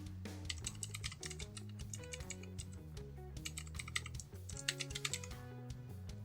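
Keys clack on a computer keyboard as a menu link is entered in WordPress, quick clustered taps running through the whole stretch beneath steady, loud tonal music with a prominent bass line.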